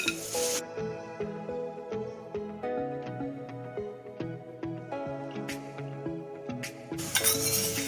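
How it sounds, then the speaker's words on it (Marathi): Cashews frying in a little oil in a pan, a steady close sizzle broken by repeated sharp clinks and scrapes of a spoon stirring against the metal. "काजू फक्त असे थोडे गोल्डन होईपर्यंत फक्त फ्राय करून घ्यायचे आणि मग काढायचे."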